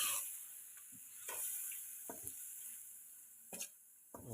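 Liver (kaleji) with green chillies frying in spiced masala, a quiet sizzle under a few clinking stirs of a utensil against the pan, soft and close without talk.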